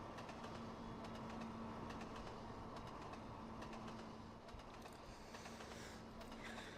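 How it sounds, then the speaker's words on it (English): A steady rumbling roar with clicking wheel beats from a diesel train running light in the Trainz Driver Journeys 2 game, continuous and even throughout with no talking. "There's a diesel train, which is running light."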